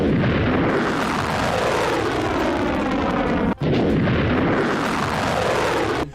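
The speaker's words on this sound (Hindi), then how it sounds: "मिसाइल को हवा में ही मार गिराने के बाद सायरन और धमाके की आवाज सुनी गई।" Explosions from a missile intercepted in the air over Tel Aviv produce a loud, continuous rumbling roar, booming and reverberating over the city with one brief break.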